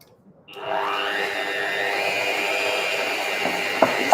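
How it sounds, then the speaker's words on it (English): A handheld electric beater whirs into cream cheese and sugar, starting abruptly after a short quiet moment and holding a steady, loud motor whine with a slight drop in pitch as it works the mixture, ending with a small clatter. "Trusty handheld beater."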